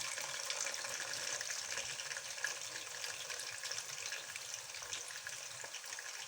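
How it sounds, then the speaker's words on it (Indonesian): Potato slices for balado potato chips frying in hot oil, a steady, even sizzle and crackle that holds at moderate volume throughout with no talk. "kemudian kita goreng di minyak yang sudah panas"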